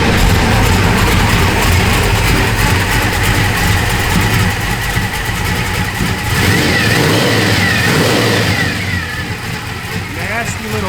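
A 1968 Chevrolet Malibu Convertible with a lumpy aggressive cam revs hard and loud up close, engine roaring steadily before dropping back toward idle near the end.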